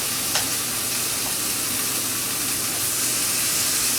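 Top round steak frying on a Primus Firehole 100 camping stove, a close, continuous bright sizzle and hiss with faint crackles and no talking.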